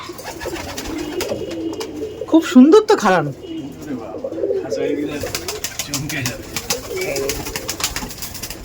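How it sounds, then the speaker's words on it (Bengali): Teddy pigeons coo in a loft in Bongaon, with soft rumbling calls and a louder burst of cooing midway while a person talks over them. "টেডি পায়রা দেখুন কাকুর, আর দেবাশিস কাকুর টেডি পায়রা দেখুন"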